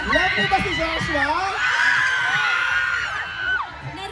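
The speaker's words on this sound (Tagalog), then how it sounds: "Narinig natin ang hiyawan ng ating mga ka-asenso" A crowd of supporters screams and cheers for actor Joshua Garcia at a convention event at Aling Puring sari-sari store, a dense, loud, continuous roar of shrieks and whoops that swells and stays strong throughout.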